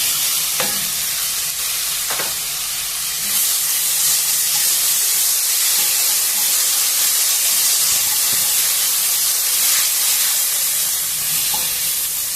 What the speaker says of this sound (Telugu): కొంచెము నూనెలోనే ఈ పాలకూర పచ్చివాసన పోయేంత వరకు వేయించుకున్నాము